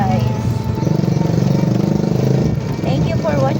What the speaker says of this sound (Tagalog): May maingay na motor guys.